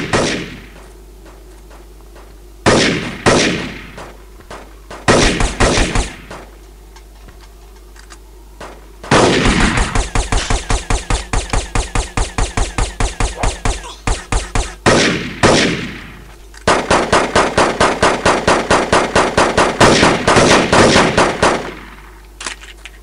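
Gunfire in the video game Devastation, loud rapid bursts of automatic shots, several short volleys at first, then long sustained rattling strings, with brief gaps between them.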